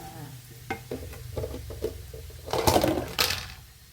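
Pork sausage stir-fried with dried chilies and plenty of garlic in a hot pan, with a spatula scraping and clattering in irregular strokes over a steady sizzle that swells into a louder burst of frying near the end.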